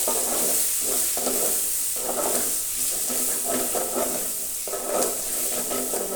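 Bitter gourd curry sizzles loudly in a pan while it is stirred in repeated sweeping strokes, a close continuous frying hiss with rhythmic scraping and no voices.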